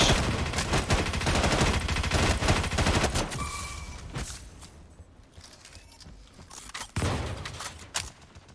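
Automatic gunfire from a plasma rifle and other guns in Star Citizen's Star Marine mode rattles in loud rapid bursts, pauses into quieter ambience, then resumes with another sharp volley.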